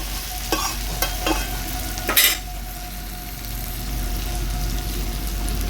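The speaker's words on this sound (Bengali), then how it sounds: "মশলার সাথে ছোলাটাকে বেশ ভালো করে আমি মিশিয়ে নেবো" Boiled chickpeas stirred into fried onion masala in a pan, with a steady close sizzle and a few sharp spoon scrapes early on before the frying settles into an even hiss.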